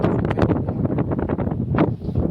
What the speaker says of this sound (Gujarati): અત્યારે પવન જેવું ફૂલે ફૂલ પવન